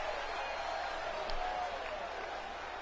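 Dense crowd roar from a live wrestling show audience, steady and loud throughout with a brief swell of cheering near the middle, no individual voices standing out.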